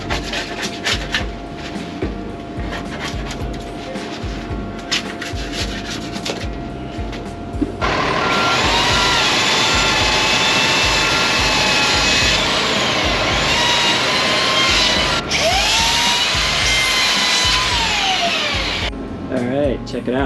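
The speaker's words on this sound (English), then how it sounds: "Now just come back with the belt sander and hit any spots that are sticking out." A belt sander grinds down cured spray foam insulation inside a van, starting partway through as a loud, steady whirring rasp that holds at constant volume with slight pitch shifts, following quieter scraping handling sounds.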